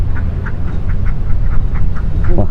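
Ducks quack at the edge of a pen beside a canal being dredged, a flock giving repeated short nasal calls at a steady pace, heard a little distant over a loud rumble of low background noise.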